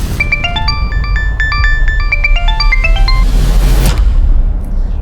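A phone ringtone plays a loud, bright electronic melody of quick stepped notes for several seconds over a steady low rumble, then breaks off.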